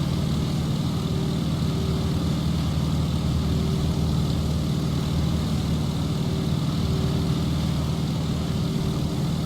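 Steady engine drone from an aircraft descending on landing approach to runway 03 in the Microsoft Flight game, a continuous low hum with a faint tonal line, even and unbroken throughout with no talk.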